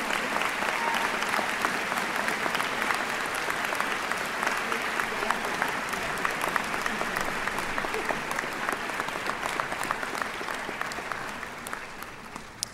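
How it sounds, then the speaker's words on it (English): Sustained applause from a graduation audience honoring faculty at a university commencement ceremony, a dense, steady wash of many clapping hands that holds evenly throughout and thins slightly toward the end. "Please join me in a round of applause for their hard work"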